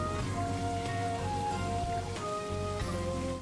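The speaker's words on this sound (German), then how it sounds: "Allerdings, es regnet gerade." Rain falls in the rice-farming game Sakuna: Of Rice and Ruin, a constant soft patter layered under steady background game music, with no one talking.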